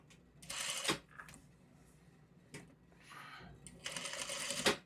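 A sewing machine stitches a quilt piece in two short whirring bursts about a second long, close and fairly quiet, with softer handling noises between them.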